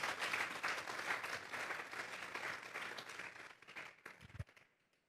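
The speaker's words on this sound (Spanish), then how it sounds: "Dele un fuerte aplauso pues al Señor esta tarde." A church congregation gives a strong round of applause to the Lord during an afternoon service, dense clapping that gradually thins and dies away into a few scattered claps and near silence.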